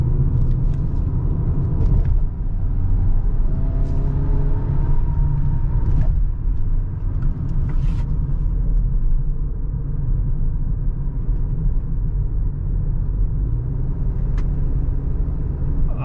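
Steady low engine and road rumble heard from inside a Kia Sorento driving on the road, continuous and loud throughout with no talking.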